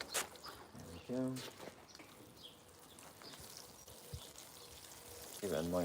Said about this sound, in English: I'm going to give it a good water and then leave it to grow.